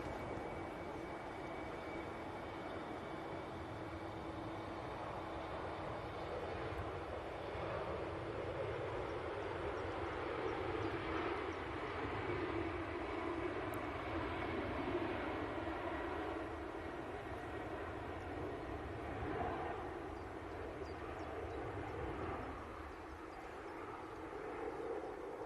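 An Embraer jet airliner in a new livery at an airport, its engines a steady broad roar holding for the whole stretch at moderate distance, with a faint voice briefly under it.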